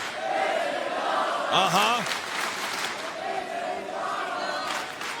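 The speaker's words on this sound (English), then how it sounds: "And the crowd here in Manhattan in the Hammerstein Ballroom" A wrestling crowd in the Hammerstein Ballroom in Manhattan roars and chants steadily, with a loud voice rising in a whooping cry partway through and announcer-like talk blending into the din.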